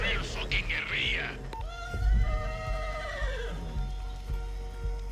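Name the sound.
horse neighing in Far Cry 6 video game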